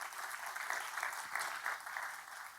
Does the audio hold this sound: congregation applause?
yes